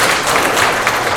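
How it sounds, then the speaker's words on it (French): Steady, dense applause from an audience at a talk about making money online, loud and continuous throughout the brief moment with no voice over it. "Est-ce qu'on peut les applaudir, les deux qui viennent de..."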